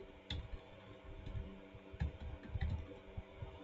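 Soft, scattered keystrokes on a computer keyboard while typing text in Canva, a few light irregular clicks over quiet room hum.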